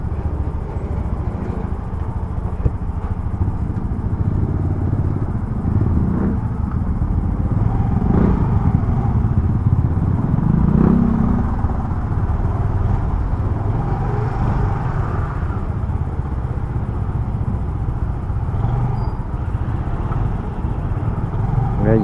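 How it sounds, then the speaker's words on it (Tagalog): A Yamaha PG-1 motorcycle on a test ride in traffic near a truck, with steady engine drone and road rumble throughout, a few passing vehicles and a rider talking over it. "Ngayon lang yata nahataw tong motor na to ng 80 yata"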